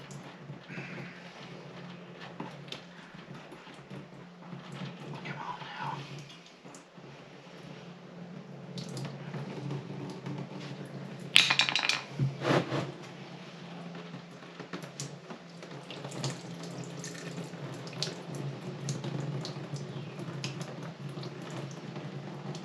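Coolant drains from the Ford 2.3L engine of a 1931 Model A coupe hot rod, a long trickling, gurgling liquid flow with drips and squishy splashes and a louder burst midway.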